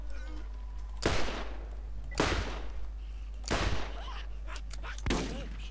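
Four heavy shotgun blasts in the video game Borderlands, evenly spaced about a second apart, each a loud, sharp boom with a decaying tail over a steady low background hum.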